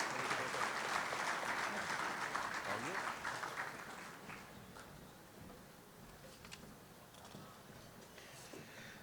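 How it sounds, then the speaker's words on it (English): Sustained applause from a crowd at a county sports awards ceremony, dense clapping that gradually thins and quiets over several seconds, with a few scattered claps near the end. "another round of applause for all our student athletes, coaches, players of the year"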